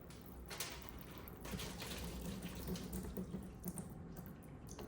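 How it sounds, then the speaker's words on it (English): Coolant spraying out of the radiator cap of a DRZ400 motorcycle during engine removal: a steady, close rushing hiss of liquid for several seconds, alone with no talk. "That coolant every time, man, it shoots like 3 feet out"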